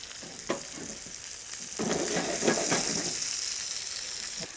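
A sole fillet sears in a hot frying pan, a close, steady crackling sizzle that grows busier partway through, with a few soft clicks and no talking.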